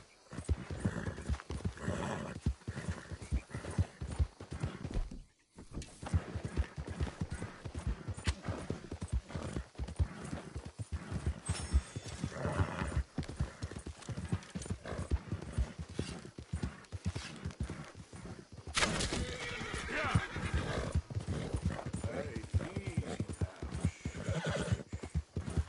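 In Red Dead Redemption 2, a horse gallops with loud, rapid rhythmic hoofbeats, broken by a brief pause and a whinny. Later the pace picks up again.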